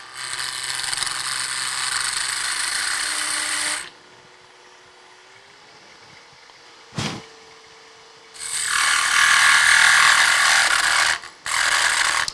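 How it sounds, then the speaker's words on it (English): Wood lathe making a peeling cut on a small spindle at high speed, giving loud sustained hissing cutting bursts separated by a quieter motor hum and a brief knock. "With a peeling cut like that, you can just blast right through it."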